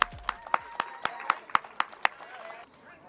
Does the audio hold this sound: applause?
yes